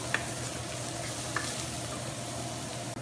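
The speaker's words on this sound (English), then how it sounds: "We're going to go ahead and add about 2 cloves of chopped garlic. And we're going to cook this" Chopped garlic, about two cloves, cooking in a pan with a soft, steady low sizzle and a couple of faint stirring taps, quiet and even throughout.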